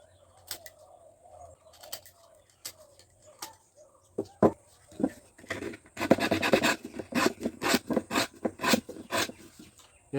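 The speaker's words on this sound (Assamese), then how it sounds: "এতিয়া আমি কটাৰীখন দি পেলাই এইখিনি এৰুৱাই দিম।" A knife cuts and scrapes bamboo while making a bamboo pepa, a traditional Assamese horn. Sparse taps give way to rapid, rhythmic scraping strokes up close, with birds chirping faintly in the background.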